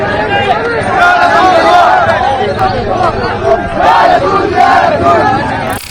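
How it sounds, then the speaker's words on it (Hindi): A large crowd of people loudly chants a slogan in unison, with rhythmic repeated shouting, dense and close throughout. "आसपास के मुसलमान इकट्ठा हुए और उन्होंने अपना सबसे बेहतरीन नारा शांतिपूर्वक लगाना शुरू किया"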